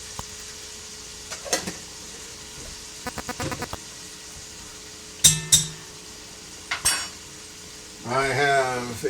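Leftover canned carrots tumble into a hot pot with a few metallic clinks and scrapes, followed by a louder burst of sizzling near the end.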